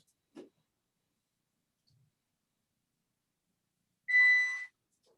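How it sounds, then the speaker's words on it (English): Kitchen timer going off while chocolate cherry cookies bake: a single short electronic beep near the end, moderately loud, after a faint click and near silence, with no talk. "Now, heard the timer."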